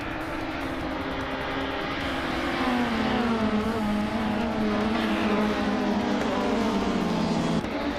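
Race-car engines in a video game rev and whine loudly at a race start, their pitch sweeping up and down as cars accelerate off the line. The sound is a dense, continuous roar throughout with no voices.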